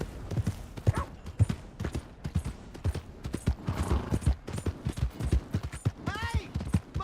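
Hooves clip-clop in a quick, uneven rhythm close by, with a horse's whinny near the end, in the video game Red Dead Redemption 2.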